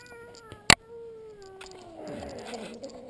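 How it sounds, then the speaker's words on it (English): A grumpy cat lets out a long, drawn-out meow that slides downward in pitch and turns into a grumbling, growly tail, preceded by a sharp click. "a grumpy kitty"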